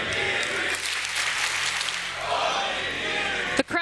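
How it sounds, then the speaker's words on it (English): Esports crowd cheering loudly in an arena at the Six Berlin Major, a sustained roar of applause and shouting that runs steadily throughout before a brief dip at the end. "The crowd cheering on Onigiri"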